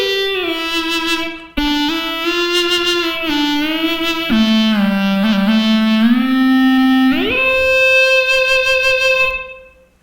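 The Glide, a newly invented electronic instrument, playing a smooth sustained melody with gliding pitch bends between notes, bright and loud, fading out at the end.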